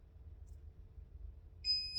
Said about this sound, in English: And then it'll beep when it's finished.